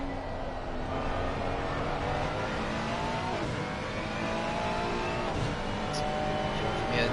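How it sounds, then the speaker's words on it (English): A Ferrari 144 race car laps a damp Indianapolis Motor Speedway in a racing video game, its engine holding a loud, steady high-revving drone with slight pitch shifts. "So we'll go for a lap with the 144 Ferrari."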